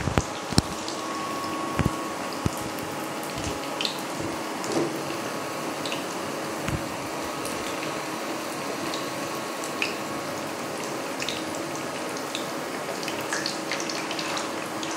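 Chicken pieces deep-frying in hot oil until golden for chicken Manchurian, a steady dense bubbling and crackling hiss with scattered louder pops and drips, close and continuous throughout.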